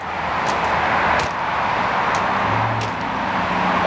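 Twin Yamaha 300 outboards on a Grady-White Marlin 300 cruising around 3,500 RPM, a steady broadband roar with rushing wind and water, continuous and fairly loud.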